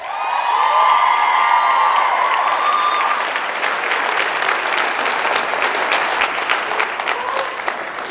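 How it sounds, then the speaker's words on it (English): A commencement ceremony crowd bursts into loud, sustained applause with some cheering and whoops, a dense roar of clapping that holds steady throughout. "Let's give them a round of applause"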